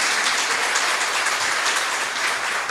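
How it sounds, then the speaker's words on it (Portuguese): Audience applause at a book launch, dense continuous clapping from a crowd, loud and sustained from start to finish with no talk over it. "pode aplaudir mesmo"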